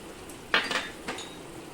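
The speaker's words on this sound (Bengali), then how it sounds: "যে মশলাগুলো তোমাদের আমি দেখিয়েছিলাম সেগুলো না ভেজে আমি একদম এই ঝোলে ফেলছি কাঁচা অবস্থায়" Raw ground cumin, coriander and fennel paste hitting hot magur fish curry in a pan, a short burst of splattering sizzle and metal clatter followed by a second smaller splash, close and brief.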